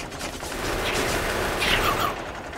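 Sustained gunfire from shooting blue biters in the Factorio video game, a dense, continuous rattling burst that stays loud and steady throughout with no speech.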